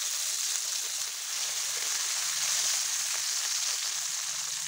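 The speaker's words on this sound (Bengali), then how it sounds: "এরপর ওই তেলের মধ্যেই সামান্য একটু কালো জিরে ফোড়ন দিয়ে দিলাম, আর দিয়ে দেব একটা মাঝারি সাইজের টমেটো," Chopped medium tomato sizzling in hot oil tempered with black cumin, a steady soft frying hiss throughout with no talking.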